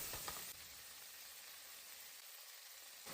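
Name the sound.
blanched vegetables stir-frying in wok with garlic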